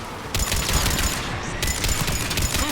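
Mounted gun turret firing in the video game Mass Effect, dense rapid bursts of automatic gunfire with a short break midway, loud and close.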